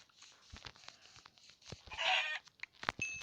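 A sheep in the video game Minecraft gives one short bleat midway through, among soft clicking and tapping game sounds and brief footstep-like noises at moderate volume.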